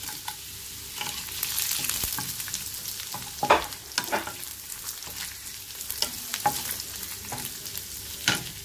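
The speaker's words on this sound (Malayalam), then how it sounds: "അതിനുശേഷം നമുക്ക് ഇതിലോട്ട് ഈ മുളക് ഇട്ട് കൊടുക്കാം" Chili hits a hot pan of oil for Korean fried chicken sauce, a steady sizzle broken by repeated scrapes and clinks of the spatula as it is stirred, close and moderately quiet.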